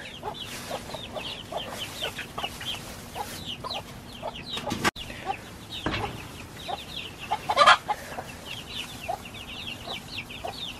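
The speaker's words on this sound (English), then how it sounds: "All the chicks are doing great." Chicks clucking and peeping in a warm indoor brooder, a continuous chorus of short chirps and clucks with a few louder calls and a faint background hum.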